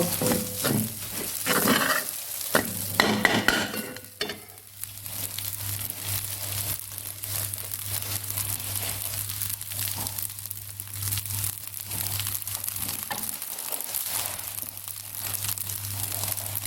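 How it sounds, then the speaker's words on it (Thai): Egg fried rice stir-fried in a light wok, with scraping, clinking and sizzling that is busy for the first few seconds and then settles into a steady low frying hiss, no talking. "กระทะมันก็ลูกน้อยนึง ผัดไปผัดมาก็กิ้งไปกิ้งมาตามมือ เพราะเขาเบา"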